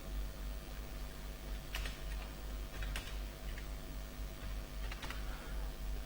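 Quiet keystrokes on a computer keyboard as a personal note is typed, scattered clusters of soft clicks over a steady low hum, with no voices.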